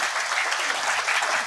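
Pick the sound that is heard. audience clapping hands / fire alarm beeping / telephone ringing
audience clapping hands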